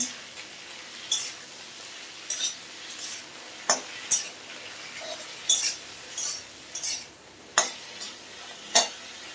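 Bottle gourd stems, greens and green plantain frying in a pan, a low sizzle under scattered spatula scrapes and clinks against the pan at an irregular pace.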